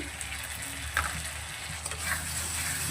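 Prawns being stirred in a frying pan with mustard paste, a steady close sizzle of frying with occasional scraping stirs layered over it, no voices.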